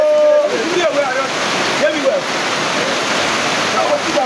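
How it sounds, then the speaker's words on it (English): Water of the River Benue rushing and splashing in a steady broadband wash, close and continuous, with a voice briefly audible over it. "This is what we call River Benue."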